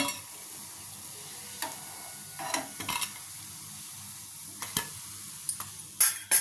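Raw banana pieces fry in a pan over a medium flame, giving a steady low sizzle broken by occasional clinks and scrapes of stirring.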